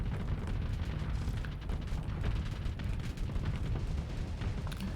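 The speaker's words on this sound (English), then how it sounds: "So there's big old cannons." Heavy battleship cannons firing in the Starsector 0.95a space combat game, a dense continuous barrage of deep booms and explosions rumbling loudly throughout with no pauses.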